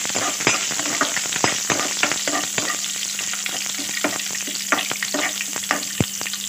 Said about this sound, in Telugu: ఇప్పుడు కరివేపాకు వేసుకుందాం. కరివేపాకు వేసుకునేటప్పుడు కొంచెం దూరంగా ఉండాలి ఫ్రెండ్స్.